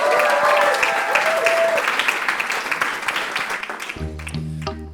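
A burst of audience applause greets the band at a French live talk show, dense clapping that slowly thins before a sustained musical chord rises near the end.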